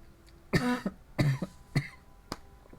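Four short, hoarse coughs come about half a second apart, close and fairly quiet, with a fainter catch at the end.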